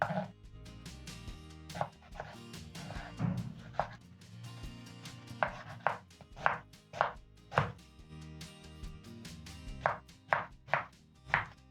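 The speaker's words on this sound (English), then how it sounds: "Then next I'm going to chop my mangoes into cubes." Knife chopping mango into cubes on a cutting board for homemade mango jam, a series of sharp, close, evenly spaced taps against faint background music.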